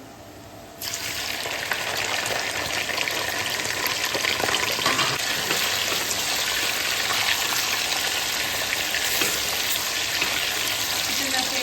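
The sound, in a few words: chicken frying with garlic in a pan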